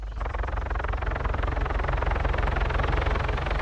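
Helicopter in the video game Arma 3, a steady, loud rotor and engine drone with a rhythmic thump running continuously throughout.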